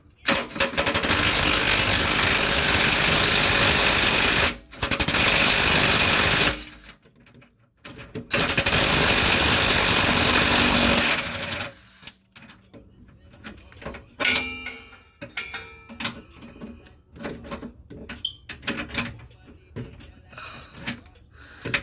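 A pneumatic impact wrench hammers a rear spring bolt on a Mustang GT, firing in two loud sustained bursts separated by a short pause, followed by quieter clanks and workshop handling noises.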